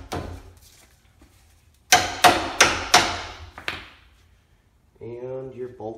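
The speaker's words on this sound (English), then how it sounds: "The next thing we're going to do is get this tow link in here. Again, just taps in." A tow link is tapped into place on the 8.8-inch rear axle of a 2002–2005 Ford Explorer: after a quiet start, five sharp metallic hammer taps ring out in quick succession, followed by someone talking.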